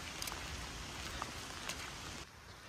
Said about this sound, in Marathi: पडत्या पावसामध्ये सायकल चालवायलेत